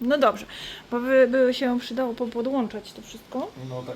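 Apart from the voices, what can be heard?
No distinct noise like a dog, phone or traffic.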